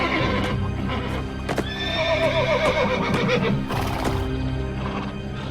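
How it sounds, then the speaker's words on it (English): A stallion neighs in panic with shrill, wavering whinnies over close, uneven hoof clip-clops and stamping, loud and near with no talk. "Only Alexander understood why the horse was in a panic."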